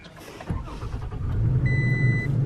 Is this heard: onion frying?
no